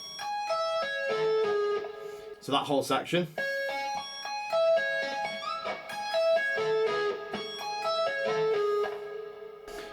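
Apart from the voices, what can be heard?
electric guitar shred lick with tapping, pull-offs and hammer-ons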